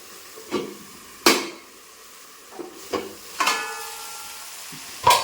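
Chicken in masala sizzles and fries in a pan, with several distinct stirring scrapes and clatters breaking through a steady hiss of hot oil, close and clear with no talking.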